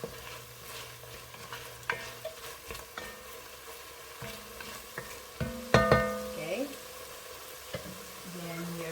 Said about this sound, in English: Just gonna stir a little bit.